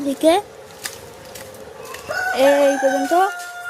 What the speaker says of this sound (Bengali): আপাতত দেশি মুরগিগুলো দেখিয়ে নিই।